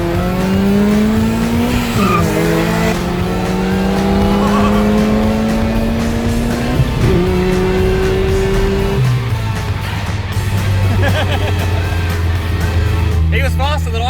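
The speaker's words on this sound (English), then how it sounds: "the best of the R53 Minis versus the best of the Fiat 500s in a neck-to-neck race" Small cars racing side by side, an R53 Mini against a Fiat 500, engines droning loud and close, with rising gear-change whines, some tire squeal and voices talking over the engine noise throughout.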